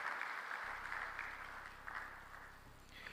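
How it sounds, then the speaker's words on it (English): An audience at an African coffee-producing nations summit gives a steady round of applause, a dense, continuous clapping heard from a moderate distance that keeps up for several seconds. "Can we once again put our hands together?"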